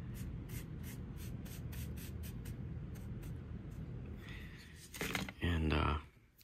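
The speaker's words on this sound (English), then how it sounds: "give it a spray, and then you'll see the glue will just kind of distribute itself." Soft background rustle and faint handling noises, then a couple of short, sharp hissing sprays of glue from a spray bottle near the end.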